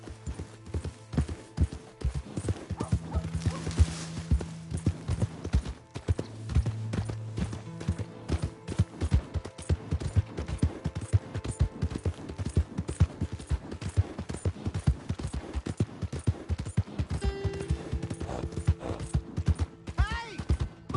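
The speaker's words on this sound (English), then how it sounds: "Hey! My horse!" Steady hoof clip-clops from a horse in Red Dead Redemption 2, rhythmic and close, running the whole time with game background music and effects.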